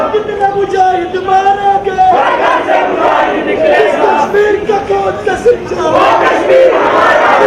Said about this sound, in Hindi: अभी काफी तादाद में भीड़ जमा हो रही है।